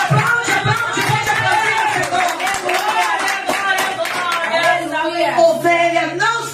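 A church congregation applauds during a family worship service, the clapping running steadily beneath a loud voice and musical tones.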